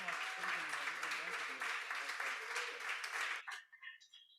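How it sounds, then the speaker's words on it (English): Applause from a concert audience for a frame drum award at the Tamburi Mundi festival, a dense wash of clapping with voices mixed in, cutting off abruptly near the end as a few faint sounds trail away. "And a big applause."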